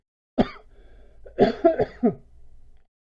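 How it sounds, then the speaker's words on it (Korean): A single cough, then a short burst of several rough coughs close to the microphone, with a quiet throat-clearing tail in a still room. "아직 기침이 또 아직까지 안 멈추네요"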